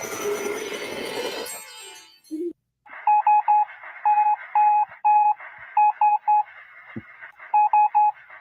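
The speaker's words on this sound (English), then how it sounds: "Sending out Morse code." Electronic Morse code beeps sound in short and long pulses of a steady pure tone, repeated in rhythmic groups after a brief noisy lead-in, clear and close.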